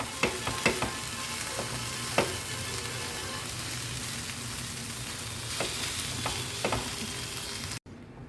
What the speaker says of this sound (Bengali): আলুটাকে খুব ভালো করে এই মশলার সাথে মিশিয়ে নিতে হবে।